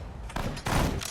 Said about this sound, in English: Gonna toss grenades in there.